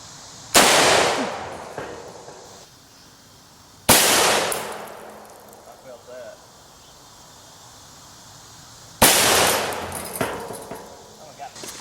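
An AK-47 firing 7.62x39 rounds into a steel plate: three loud, sharp cracks spaced a few seconds apart, each with a ringing, decaying tail, and quiet outdoor background in between.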